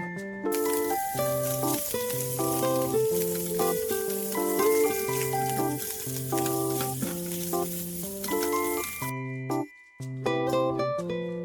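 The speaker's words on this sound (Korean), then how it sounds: "햄을 길게 썰어 식용유를 두른 프라이팬에서 살짝 볶아주세요" Sliced ham strips sizzle in an oiled frying pan, a steady frying hiss that runs nearly throughout beneath loud melodic background music, with no talking.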